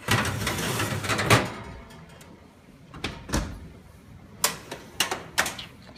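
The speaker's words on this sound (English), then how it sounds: "me go down to the bottom drawer." Bottom warming drawer of a KitchenAid KSGB900ES range slides open with a rolling rumble, followed by a few sharp knocks and clacks as it settles, close and clear without talk.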